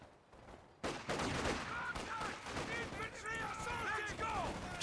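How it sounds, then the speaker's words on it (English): Company of Heroes 2 battle with infantry shooting: rapid bursts of rifle and machine gun fire crackle continuously after a quiet start, mixed with unit voice barks and battlefield clatter. "Infantry shooting at us."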